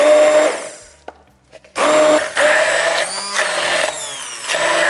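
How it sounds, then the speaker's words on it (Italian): A hand-held immersion blender whirs loudly as it purées a cooked filling for a savory Christmas appetizer, starting, cutting out briefly, then running steadily with shifting pitch as it works through the mixture; no one speaks. "E andiamo a frullare con il mini pimer."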